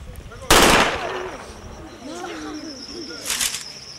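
A Victory Day eve ceremony in Yakutsk in 2007 closes with a fireworks salute: one loud sharp burst, a long crackling tail with whistling, then a fainter second burst, no voices.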